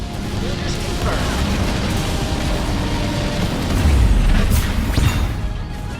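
Explosions and crashing destruction as a building is blown apart in the real-time strategy game Halo Wars, a dense, continuous rumble with a heavier boom and bursts near the end, mixed with battle noise and voices.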